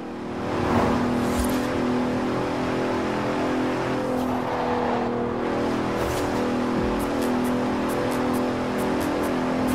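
A Bentley Continental GT, a 2017 Continental Supersport grand tourer in Forza Horizon 4, holds a steady, droning engine note for about ten seconds, with brief faint clicks and a soft tire noise near the end.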